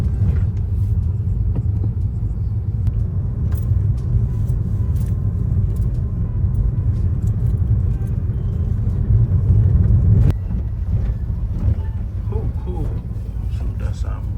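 A gas-fuelled car driving along a road in India, a constant low engine and tyre rumble heard from inside throughout, with a few small clicks and knocks over the top and no clear speech.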